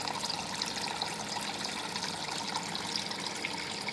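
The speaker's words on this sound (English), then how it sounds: "So we pump up, the water comes out right here" Pumped creek water pours steadily from a pipe, giving a continuous trickling, splashing flow with no pauses and no talking.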